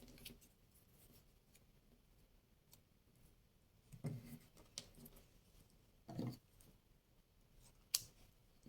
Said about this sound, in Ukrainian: знову розрізаємо по лінії згину одну смужку і другу смужку